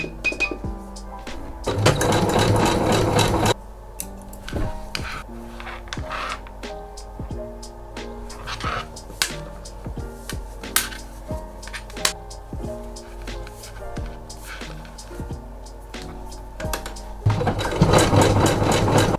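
A sewing machine hums and clatters steadily as it stitches a zigzag along the boning casing of a lace bodysuit, with louder rattling bursts at the start and end.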